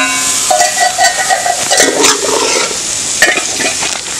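Cooked chicken stirred into kappa biryani masala in a pan, a loud close sizzle under steady scraping of the spoon, continuous throughout.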